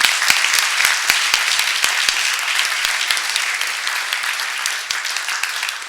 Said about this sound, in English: Let's do a round of applause for our translators.